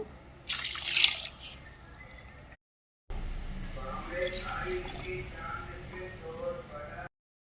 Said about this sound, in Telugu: హాఫ్ కేజీ చికెన్కి హాఫ్ లీటర్ వాటర్ పోసుకుంటాను